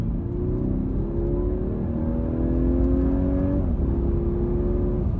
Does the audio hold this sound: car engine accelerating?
yes